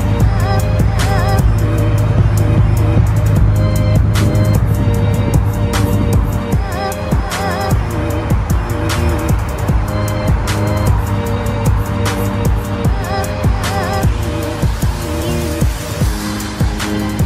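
An F10 BMW M5 on new forged wheels is test driven, its engine droning steadily with loud tonal roar and occasional sharp transients, close by and sustained throughout.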